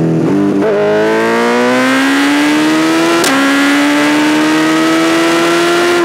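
Car engine revving hard under acceleration, pitch climbing steadily through a long gear with a brief shift click partway, loud and continuous from inside the car, no talking.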